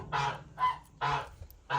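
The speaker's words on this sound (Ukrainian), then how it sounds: "гусак кричить" Four loud, nasal honks from a goose, close by, spaced about half a second apart with brief quiet gaps between them.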